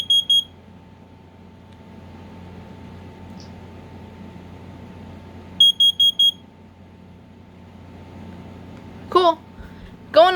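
An FCD3N carbon monoxide detector sounds its test alarm in short bursts of high beeps, a group of four near the start and again midway, over a quiet room with faint background voices and a couple of brief higher chirps near the end.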